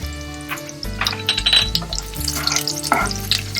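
Green and red chillies sautéing in hot oil, a close, busy sizzle with spoon stirring and light clinks against the pan throughout.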